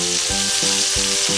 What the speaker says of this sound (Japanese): これでこんにゃくをよくチリチリと炒めるのがポイント